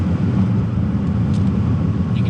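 Porsche Panamera 4S (971) exhaust in sport mode, a deep, steady low rumble that stays loud and close throughout with no talking.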